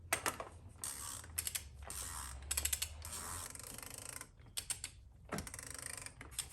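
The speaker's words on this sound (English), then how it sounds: "Hand tight with a ratchet" A ratchet tightening a bolt by hand during an engine flush, quick bursts of close clicking pawl sounds separated by short pauses.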